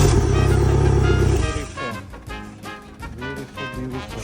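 A Yamaha four-stroke boat engine fires on the first try after a relay replacement, a loud low roar that settles into a steady rumbling idle up close.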